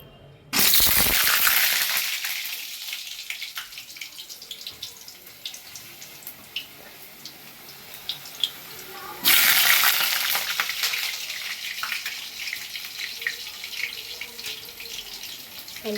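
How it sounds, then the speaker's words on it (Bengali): Potatoes go into hot oil for a jackfruit dalna, setting off a sudden loud hissing burst that eases into a steady sizzle, with a second burst partway through and no talk. "এবার আলুগুলো ভাজবো।"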